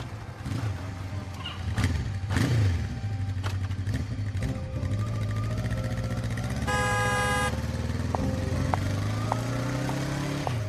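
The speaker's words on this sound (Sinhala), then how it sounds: "මං දැක්ක ඔයා බයික් එකේ එනවා" A motorcycle rides past with a droning engine whose pitch slowly rises. A short horn toot sounds midway, against steady road noise with no talk.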